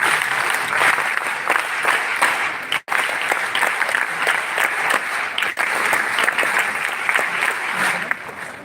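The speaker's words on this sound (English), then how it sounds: "Huge round of applause, ladies and gentlemen" Applause from a large audience at a national youth festival as a memento is presented on stage, sustained dense clapping from many hands, loud and continuous throughout.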